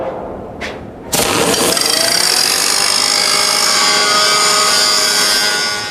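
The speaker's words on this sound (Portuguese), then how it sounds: "A gente precisa limpar a junta bem direitinho para eliminar traços de gordura, tinta, óleo ou qualquer outra impureza" Power-tool cleaning of a T-shaped steel weld joint before welding: after a brief quiet start, a loud grinding whine kicks in sharply at about one second and holds steady and close until the end.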